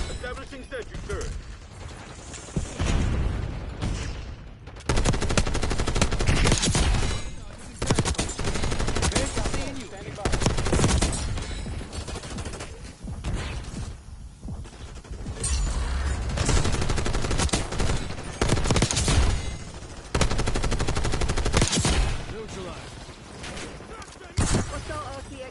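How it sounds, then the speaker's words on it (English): A sentry turret in a video game fires a machine gun in long rapid bursts separated by short pauses, loud and close, with mechanical whirring between volleys and voices speaking at times. "Establishing sentry turret."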